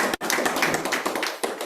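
Audience at a Srimad Bhagavatam discourse claps for themselves, a dense, steady patter of many hands close by, with a brief dip before it continues evenly.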